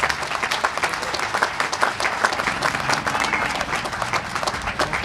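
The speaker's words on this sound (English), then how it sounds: "So I think that deserves a round of applause." A round of applause rises from the audience at the grand opening of a High Desert Health Systems facility in Lancaster, with dense, steady clapping filling the space for several seconds.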